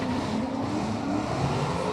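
Drift cars launch together in a tandem battle at Drift Kings Indonesia 2024, a loud, continuous engine roar with revving and tire noise blending into a dense, steady wash from trackside.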